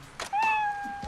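A cat meows once in the video game Like a Dragon: Ishin! Kiwami, a clear, drawn-out tonal cry that rises and then holds steady, close and fairly loud over faint background game ambience.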